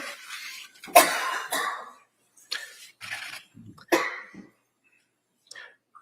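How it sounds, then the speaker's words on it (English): Several harsh coughs burst out in irregular clusters in a courtroom, close and loud, separated by short silences, with a faint voice near the end. "Somebody's having a choking fit."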